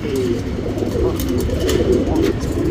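A male Kawwa Guldar tournament pigeon coos in soft, repeated throaty rolls close by, with someone talking over it throughout.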